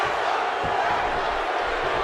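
Arena crowd roaring in the WWE 2K16 wrestling game during a comeback, a dense continuous wash of cheering with faint thumps beneath.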